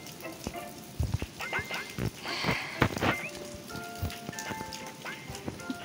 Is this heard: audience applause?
no